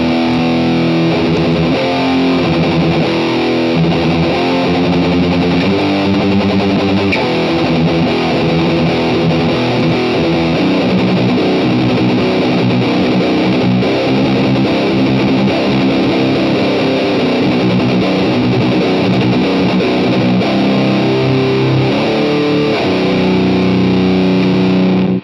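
A heavily distorted electric guitar plays continuously through an iRig HDX amp cabinet simulation, loud and dense with sustained chords and riffs, no voices.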